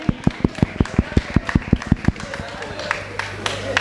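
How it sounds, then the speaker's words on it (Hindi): Worshippers at a Digambar Jain temple gathering during the Paryushan festival clap together in a steady, even rhythm for about two seconds. The claps then fade into a low hum and room noise. "जोरदार तालियां बजा दें इनके लिए।"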